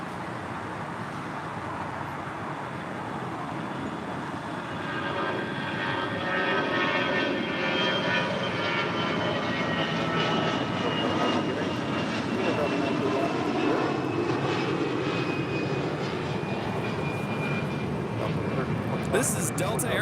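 Delta Airlines flight 931, an Airbus A320, departing LAX for Austin, a broad steady jet roar that swells after the first few seconds and holds loud and close, with talk heard over it.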